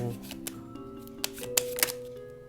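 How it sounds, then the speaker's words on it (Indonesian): Tarot cards are drawn and handled with several crisp, close flicks and shuffling snaps in an irregular rhythm, over a faint background tone. "Aku akan ambil 3 kartu untuk dia dan kemudian 1 kartu untuk kamu"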